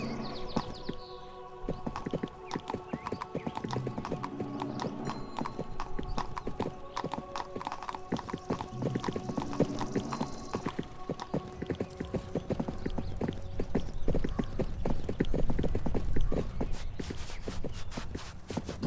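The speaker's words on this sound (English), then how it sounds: "Father, get on your horse." Horse hooves clip-clop steadily and close up in the video game 1428: Shadows over Silesia, a continuous walking rhythm that lasts throughout over faint ambient background.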